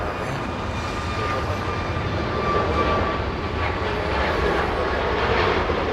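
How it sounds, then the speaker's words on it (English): Southwest airliner departing Los Angeles International Airport for Oakland, a steady broadband jet engine roar held at an even level throughout, with a faint whine above the rumble. "Here we go, Southwest flying to Oakland."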